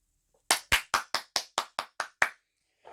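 Nine sharp, evenly spaced hand claps ring out close and clear in a quiet lecture room, followed by a faint trailing sound.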